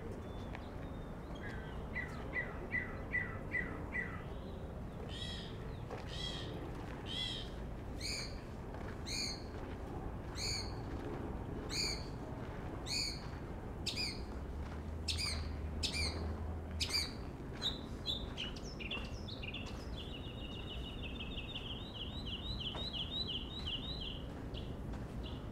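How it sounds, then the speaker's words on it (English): Birds chirp and tweet in repeated bright bursts on Olvera Street in Los Angeles, a series of short calls at moderate distance over steady outdoor street ambience, ending in a quick trilling run. "Beautiful birds too."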